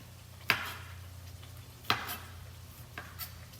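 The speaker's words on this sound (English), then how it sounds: "So I'll chop my garlic." A knife chopping garlic on a board, a few separate sharp thuds spaced apart, close and clear over a low steady kitchen hum.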